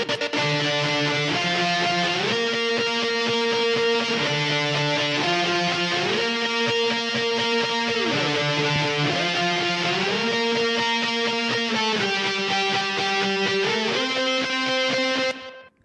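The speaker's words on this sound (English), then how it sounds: "affected guitar intro." A distorted electric guitar plays a steady modern rock intro riff with shifting chords, hard-panned left and right, thick with modulation and a sustained, effected tone, ending abruptly.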